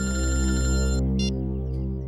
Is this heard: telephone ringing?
yes